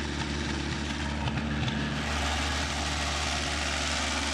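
An old, long-abandoned Coca-Cola truck engine running at idle, a steady low droning hum with a few faint knocks midway, fairly quiet and without voices.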